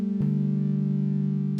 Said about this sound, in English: on engine 1, we've got a wavetable called Sign Language